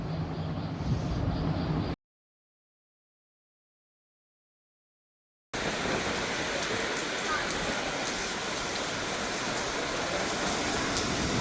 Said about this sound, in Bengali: এতদিন পর বৃষ্টি ঝমঝমিয়ে, দেখুন কেমন লাগছে বৃষ্টিটা